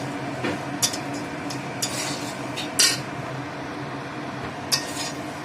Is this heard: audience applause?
no